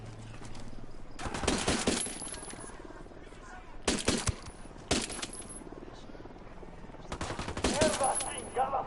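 Automatic gunfire rips out in Ghost Recon Wildlands in several loud, clustered bursts separated by short pauses, with brief voices between them.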